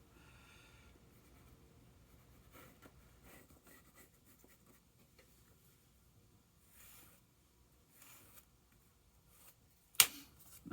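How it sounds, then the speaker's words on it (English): A lead pencil marking a pattern for a Harley-Davidson motorcycle fender bib, faint scratchy strokes in short bursts, ending in a sharp knock close by. "When all else fails, get yourself a lead pencil."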